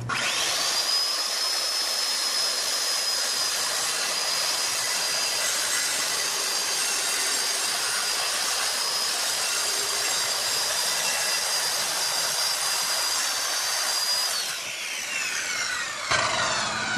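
A circular saw runs through a wall panel for set flat construction, guided along a clamped straight edge, a loud steady whining cut lasting about fourteen seconds before winding down.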